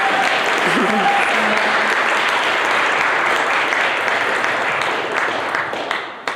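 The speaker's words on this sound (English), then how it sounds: "Can we give them another round of applause?" An audience at a university creative writing event gives another round of applause for four readers. The clapping is full and steady, a voice briefly sounds over its start, and the applause tapers off at the end.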